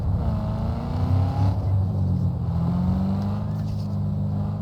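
A car drives in Cyberpunk 2077 with a steady, loud engine drone that shifts in pitch as it accelerates, with no break in the sound.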